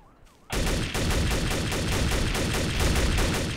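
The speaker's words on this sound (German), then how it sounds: "Wer schießt denn da?" Rapid gunfire in the game Trouble in Terrorist Town erupts suddenly after a quiet start and continues as a dense, loud, sustained barrage.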